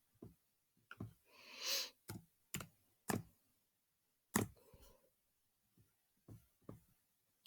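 Typing on a computer keyboard, a sparse run of separate key clicks and taps with irregular pauses between them, close and fairly quiet in an otherwise silent room.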